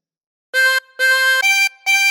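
Harmonica playing the opening phrase of Twinkle Twinkle Little Star, four short reedy notes in pairs, blown then drawn, close and clean with brief gaps between them.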